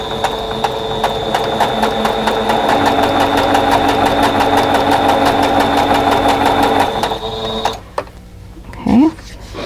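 A sewing machine runs a quarter-inch seam on a quilt block in a fast, steady mechanical rattle for about eight seconds, then stops, and a voice speaks briefly afterward.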